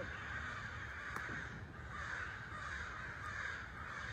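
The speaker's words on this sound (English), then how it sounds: "But that's a lot of crows." Many crows caw from trees at a distance, their calls overlapping into a steady, continuous racket with no talking.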